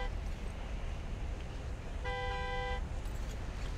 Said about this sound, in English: I just had to honk the horn a couple times, maybe.